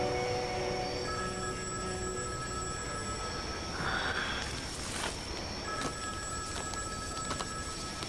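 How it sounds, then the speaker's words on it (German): A telephone rings in an indoor scene from a German-dubbed soap drama, its faint electronic tones sounding in a few repeated bursts over a low background hum. "Gehen Sie nicht ans Telefon?"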